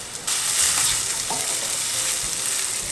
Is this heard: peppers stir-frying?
yes